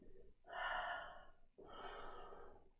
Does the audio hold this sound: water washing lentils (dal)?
no